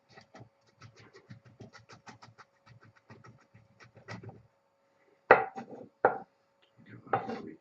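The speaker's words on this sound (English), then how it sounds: "Give that a wee chop." A knife chops garlic on a board in quick, light, irregular taps, fairly close and quiet, followed by a few louder, sharper knocks near the end.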